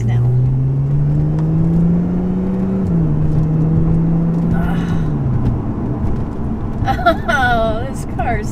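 Lotus Evora S pulling uphill: loud engine note climbing in pitch through a gear change, then easing off as a voice speaks over the fading drone.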